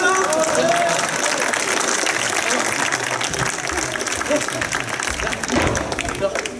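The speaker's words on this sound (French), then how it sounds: "On applaudit quand même, hein?" Outdoor applause from a festival crowd at a street performance in Les Sables-d'Olonne. Loud, continuous clapping is mixed with crowd noise and some voices, and it holds steady throughout with a slight easing near the end.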